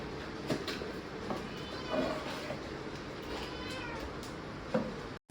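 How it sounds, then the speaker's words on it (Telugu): A Persian cat at home in Hyderabad lets out a few short, soft meows spread across a steady low background hum. "Chintu is like our family Persian cat."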